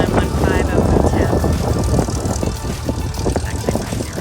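A propeller airplane drones steadily overhead, loud and continuous, with speech mixed in.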